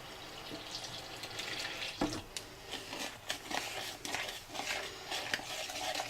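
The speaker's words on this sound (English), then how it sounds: "I have here about a half a cup of the rice flour, which I'm going to mix with water" Rice flour is stirred into water in a small container, with wet swishing and light clinks of a utensil against the sides. The stirring comes in uneven bursts and stays fairly quiet.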